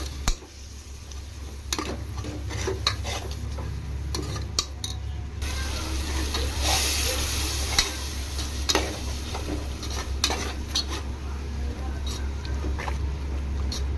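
Fried tomatoes are stirred into an egg biryani mixture in a pan, giving repeated scraping strokes and sharp utensil clinks over a steady low hum and a soft frying hiss.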